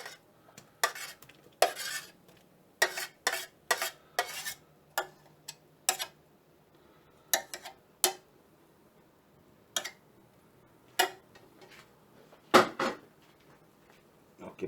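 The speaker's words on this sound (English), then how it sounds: "Now keep stirring and let the butter dissolve." Salted butter melts in a pan while a utensil stirs it, giving a series of sharp clinks and scrapes in irregular bursts over a faint low sizzle, close and without any talk.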